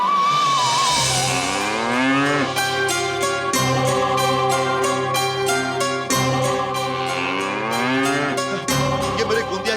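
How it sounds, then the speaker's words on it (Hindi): A bull named Gondiya lowing loudly and repeatedly, long drawn-out moos with rising and falling pitch, several calls in close succession over steady background music, and no talking. "ये मेरे गोंदिया की आवाज है।"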